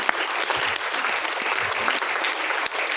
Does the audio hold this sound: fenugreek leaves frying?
no